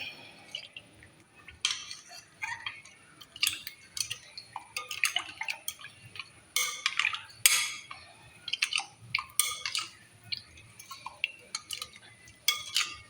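A metal spoon clinks repeatedly against a bowl while stirring chaat masala into green pani puri water, giving irregular bright taps and scrapes with faint liquid swishing in a quiet room.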